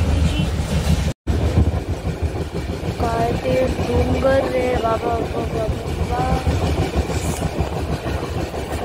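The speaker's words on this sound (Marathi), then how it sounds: "आता ट्रेन मी पकडली आहे रस्त्याची" A passenger train on the way from Mumbai toward Akkalkot rumbles steadily along the rails, a loud continuous roar from inside the carriage with a short break, while someone talks over it.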